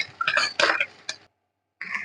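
Fried gobi tossed and mixed with tomato sauce in a pan for egg gobi fried rice: a few close clinks and scrapes of the spoon against the pan, then a brief pause before another scrape.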